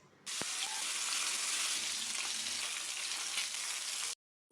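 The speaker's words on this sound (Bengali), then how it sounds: "একটি কড়াইয়ে সরিষার তেল গরম করে একে একে মাছগুলো ভেজে নিন" Fish frying in hot mustard oil in a wok, a loud steady sizzle that starts abruptly and runs unbroken for about four seconds before cutting off, with no voices.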